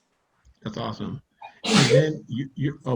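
A single sharp sneeze from one person in an online parent training webinar, bursting loudly between stretches of nearby talk.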